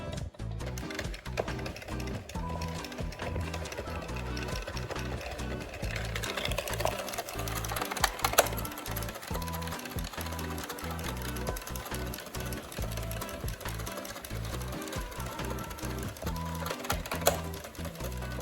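An Addi knitting machine cranked steadily by hand while knitting a beanie, giving a continuous, dense rattling clatter of needles and carriage, close and loud throughout the clip.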